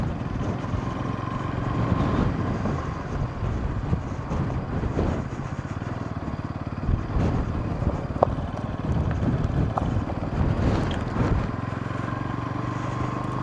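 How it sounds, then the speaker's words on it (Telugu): Strong wind gusting across an open reservoir dam at OWK Reservoir in Kurnool buffets the microphone with a loud, continuous broadband roar, rising and falling in gusts with a faint engine-like rumble underneath and no speech. "ఫుల్ విండ్ అయితే కొడుతుంది"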